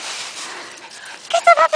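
A puppy outdoors in leaves gives a few short, high yips and whimpers near the end, close and sharp after a quieter stretch of rustling.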